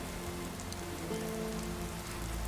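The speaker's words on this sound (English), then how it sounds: "I mean, it's not going to rain forever." Steady rain falls in Skyrim, a dense, even hiss of drops on surfaces that holds without a break for the whole stretch, with no voices.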